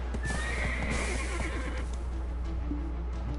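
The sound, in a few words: horse neighing in a video game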